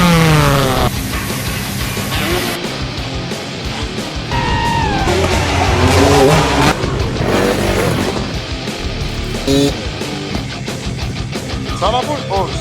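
YCF pit bike engine revving through a muddy riding session at Ernée, loud and rising and falling in pitch, with other engine noise and some voices mixed in.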